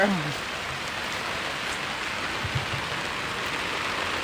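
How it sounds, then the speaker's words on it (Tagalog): Steady heavy rain at the seaside hisses across a broad band, with a brief low voice near the start and a couple of soft knocks partway through. "Ay, lakas ng ulan"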